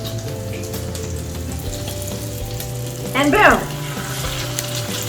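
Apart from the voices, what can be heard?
flour-dredged, egg-washed chicken frying in a pan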